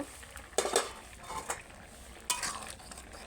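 A metal lid is lifted off a cooking pot of curry with potatoes, kohlrabi and tomato, giving a couple of sharp clinks and scrapes of metal on metal that stand out against quiet kitchen background.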